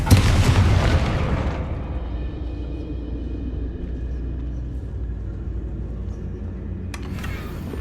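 A Confringo blasting spell detonates in the Hogwarts Legacy video game, a loud booming burst at the start that decays into a long low rumble, with a faint sharp crackle near the end.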